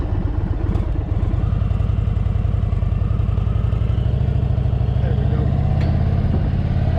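An Indian Super Chief motorcycle engine runs close by with a steady, throbbing low idle and a rhythmic mechanical clatter, continuous throughout, with a voice speaking over it.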